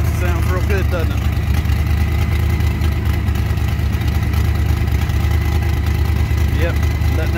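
Hot rod engine idling as it warms up at a car show, a steady low rumble throughout, with people talking nearby over it.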